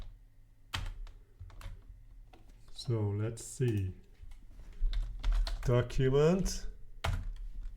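JavaScript code is typed on a computer keyboard in bursts of close, crisp key clicks while a person speaks over parts of it.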